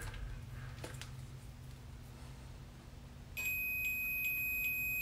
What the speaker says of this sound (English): when it beeps that the wire is connected on both ends